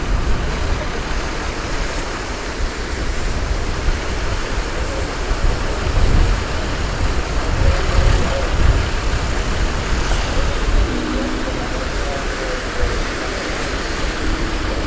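Ocean waves break on a sandbank in a broad, continuous roar of surf that swells and eases, loud and washing, with a few faint voices mixed in under the noise.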